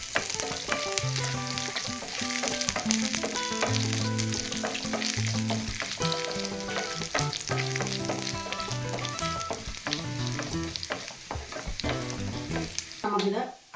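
Mustard seeds and curry leaves fry in hot oil for a beetroot pachadi, a close, continuous sizzle with steady crackling throughout, a melody playing along underneath and no voices.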